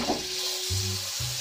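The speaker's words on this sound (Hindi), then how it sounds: "अब यहाँ पैन में मक्खन डाल दूंगी" Butter sizzling in a hot pan, a steady broadband hiss running through the whole short stretch with a few soft low thumps, no voices.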